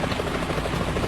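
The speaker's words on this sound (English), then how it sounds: "Is that a chopper I just heard?" Helicopter rotor noise in the Metal Gear Solid 2 video game, a dense, loud, continuous chopping thrum filling the short moment with no speech.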